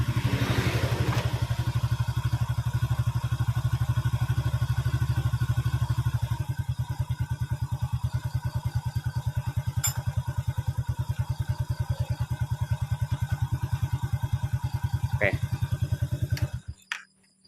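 A Honda Supra X100 motorcycle engine idles steadily after a cylinder block rebuild and cam chain replacement, a fast even putter that drops to a slower, lower idle partway through before cutting off near the end.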